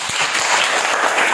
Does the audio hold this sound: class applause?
yes